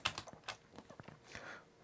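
Keys clatter on a faulty Amiga 500 keyboard during a keyboard test, a quick irregular run of clicky presses, close and fairly quiet.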